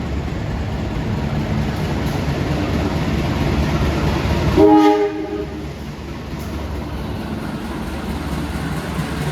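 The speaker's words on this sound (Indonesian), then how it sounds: "ada kereta api Gajah Wong yang bakal melintas langsung" The Gajah Wong passenger train rumbles through a station without stopping, steady rolling noise and a brief horn blast midway, loud and nearby.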